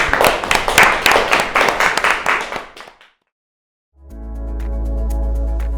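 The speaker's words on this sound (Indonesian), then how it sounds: "Tepuk tangan." Applause from a group of people, a steady burst of clapping that fades out, followed by a pause and then a sustained musical tone.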